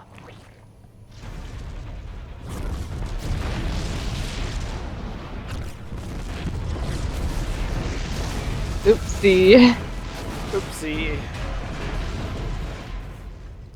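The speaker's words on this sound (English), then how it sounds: "The explosions have stopped." Explosions and battle rumble from the video game StarCraft 2 roll on continuously, loud and dense, with brief bursts near the middle while a player briefly speaks over them.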